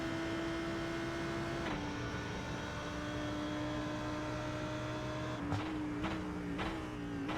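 Lamborghini Huracan GT3 EVO racing engine in iRacing at Road America, a steady sustained drone held throughout, with several sharp gear-shift breaks near the end, alone without voices.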